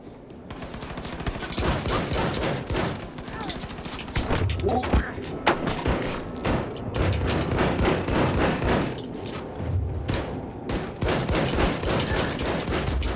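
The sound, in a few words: shotgun firing in Wolfenstein New Colossus video game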